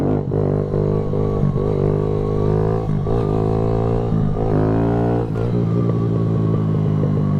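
Kawasaki Z125 motorcycle doing wheelies on a side street: a small engine revs hard in repeated rising bursts and drops back between them, loud and close, with no talk.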